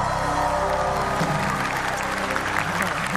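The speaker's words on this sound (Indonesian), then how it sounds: "Tepuk tangan buat Ini Talk Show." Studio audience of a television talk show clapping steadily, a dense, even wash of applause with some crowd murmur and faint cheering beneath it, sustained for the full length.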